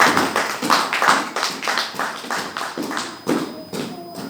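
Church congregation clapping in a steady rhythmic beat, about two claps per second, loud and close, with voices mixed in underneath.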